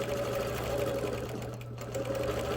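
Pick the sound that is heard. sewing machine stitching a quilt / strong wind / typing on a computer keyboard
sewing machine stitching a quilt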